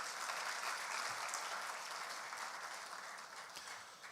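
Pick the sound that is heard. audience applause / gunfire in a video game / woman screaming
audience applause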